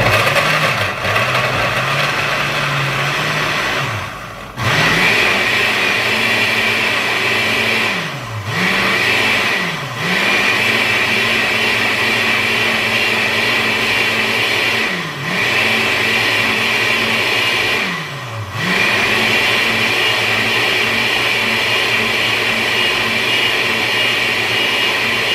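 A blender motor runs steadily while it mixes garlic, a loud whirring drone that dips briefly and then ramps back up several times as the load shifts.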